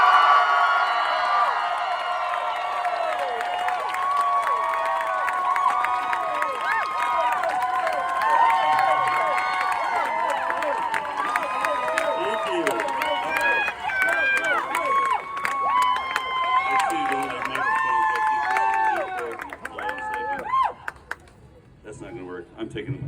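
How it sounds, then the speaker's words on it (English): A rally crowd in Texas cheering, whooping and applauding for Del Bigtree, with a loud, sustained roar of many voices and claps that thins out near the end. "give him the big Texas hooray, hurrah, yeehaw, and give it up for the one and only"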